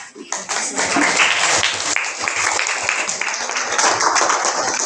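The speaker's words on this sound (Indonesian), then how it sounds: "Kita berikan tepuk tangan." A classroom of students clapping their hands together, a loud, dense burst of applause that starts abruptly and continues steadily, with some voices mixed in.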